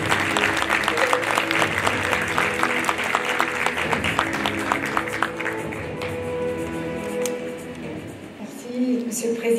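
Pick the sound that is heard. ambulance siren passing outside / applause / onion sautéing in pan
applause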